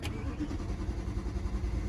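A BMW E92 M3 cranks without starting, a brief low churning of the starter and engine heard faintly throughout.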